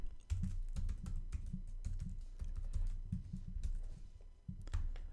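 Login details being typed on a computer keyboard while setting up WordPress, a steady run of close, crisp key clicks with brief pauses and no voices.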